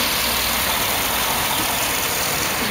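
2009 GMC Yukon Denali XL with a 6.2 liter V8 Vortec engine idling nearby, a steady, unbroken engine drone with a constant high whine above it and no speech.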